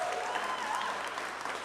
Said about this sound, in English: can we just give a round of applause for our lovely,